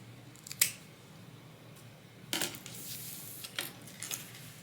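Scissors trimming fabric zipper tape for a tote bag, a sharp snip followed by several quieter cutting crunches and clicks close up, with no talking.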